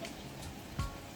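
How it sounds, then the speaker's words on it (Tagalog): Steady heavy rain patters on surfaces during an approaching typhoon, a soft continuous hiss with a faint thump near the end. "Umuulan na ng malakas."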